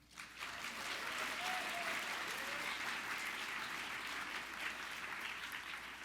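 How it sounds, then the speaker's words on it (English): A round of applause from the audience at the National Book Critics Circle Awards ceremony, rising quickly into full, steady clapping that holds evenly for several seconds without speech. "Please join me in a round of applause in celebration of each of these guests' contributions to literature."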